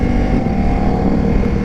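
2024 Ducati Multistrada V4 RS motorcycle with a smooth V4 engine, droning loud and steady for a short moment, close up with some wind noise.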